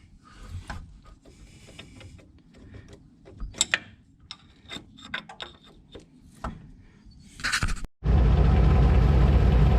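Ratcheting and creaking clicks come from a wrench turning an easy-out extractor on a stuck bolt during wheel bearing hub work on a 2003 Ram 2500, irregular and close, ending in a sudden loud, steady roar.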